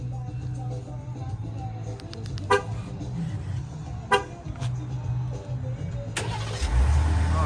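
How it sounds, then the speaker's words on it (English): A 2025 Ram 1500 SST pickup truck, recently towed to a dealership, cranks and starts; a steady low engine rumble runs throughout with a couple of sharp clicks or taps, and a louder surge near the end as it fires up. "Let's see if it starts."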